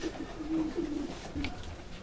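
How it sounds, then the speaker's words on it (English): Racing pigeons offered for auction coo softly in a few low, rounded phrases, close by with faint room noise and no talk. "These are super pigeons."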